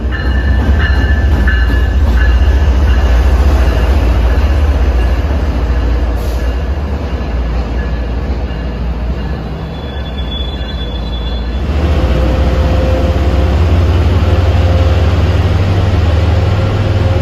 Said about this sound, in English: The locomotive exhaust from starting this long 7-car train probably doesn't do the locomotive's cleanliness any favors in this back bay tunnel.